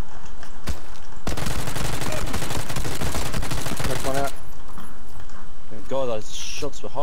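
Rapid bursts of gunfire from shotgun and Uzi in the video game PUBG, a dense sustained fusillade followed by scattered shots, with players talking over the game sounds.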